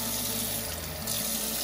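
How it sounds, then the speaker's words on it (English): Warm water runs steadily from a kitchen tap into a sink, a continuous broad rushing splash close by with no talk. "So let's get the warm water back on."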